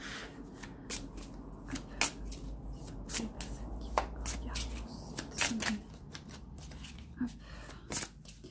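Tarot cards are shuffled by hand in close, crisp bursts of riffling and slapping, repeated irregularly while someone talks softly alongside.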